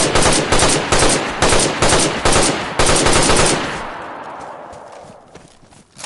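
Automatic gunfire during a base raid in the survival game DayZ: several rapid bursts of close, loud shots spaced across the first few seconds, then a long echoing tail that fades away.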